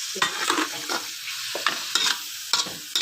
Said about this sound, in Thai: ผัดนะคะ